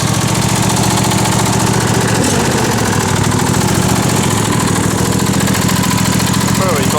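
A John Deere tractor engine idles steadily after warming up, a continuous low mechanical rumble held close throughout, with a voice briefly talking over it.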